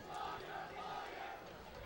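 Paramus fans cheering at a 2011 high school football state semifinal against Wayne Hills, a distant, faint murmur of crowd voices and shouts rising and falling in the stands.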